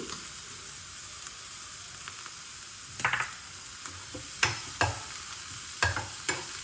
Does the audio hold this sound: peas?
yes